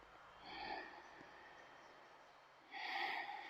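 A person breathing slowly in and out during a yoga warm-up, two soft, breathy exhalations a couple of seconds apart, close and quiet with no talking.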